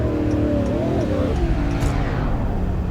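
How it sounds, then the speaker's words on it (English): An old-body Ford Mustang in the Roblox game pulling up alongside, a steady engine hum with rising and falling revving tones, fairly close and continuous, with no speech over it. "an old body style Mustang pulling up next to us"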